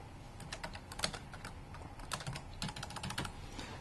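Steady, quiet typing on a computer keyboard while writing notes in PowerPoint: a continuous run of light clicking keystrokes with a few louder taps, close by and with nobody speaking.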